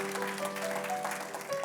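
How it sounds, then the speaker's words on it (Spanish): A church congregation applauds steadily, dense clapping filling the room over a sustained musical tone, with no talking over it. "Denle ese aplauso fuerte al Señor"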